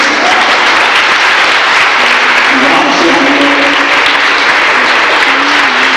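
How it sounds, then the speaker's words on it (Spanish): Church congregation applauding during a 1994 evangelical service, a steady, dense wash of clapping from a large crowd that fills the whole stretch, with faint voices mixed in underneath. "Ofrenda de aplauso para Dios."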